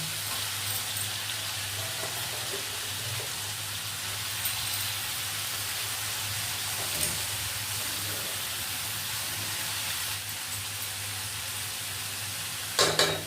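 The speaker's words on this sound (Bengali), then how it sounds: "এবারে আমি মোচাটা পুরো কেটে ধুয়ে রাখা মোচা এর মধ্যে দিয়ে দেবো" Chopped banana flower frying and being stirred in a pan for a Bengali chingri mocha ghonto, a steady close sizzle throughout with light stirring scrapes and a brief clatter near the end.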